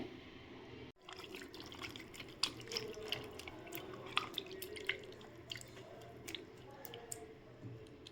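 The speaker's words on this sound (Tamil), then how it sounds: "ஒரு கிளாஸ் தண்ணி ஊற்றி நம்ம வேக வச்சு எடுத்துக்கலாம்" Faint water sloshes into a pot of beef curry after a brief pause, with scattered drips, wet squishes and light clinks continuing quietly.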